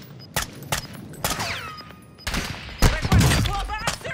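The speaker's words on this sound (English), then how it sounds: "there's people shooting from up here" Sniper and rifle gunfire in Call of Duty: Modern Warfare II, a string of sharp shots at irregular intervals, some near and loud, with whizzing and impact sounds, ending in a denser burst of fire.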